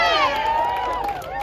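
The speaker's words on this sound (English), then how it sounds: "You can clap for that?" An audience at a New York City political endorsement event claps and cheers, a brief loud wash of voices and applause with rising whoops.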